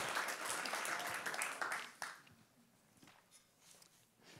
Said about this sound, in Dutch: Geef hem ook een hartelijk applaus.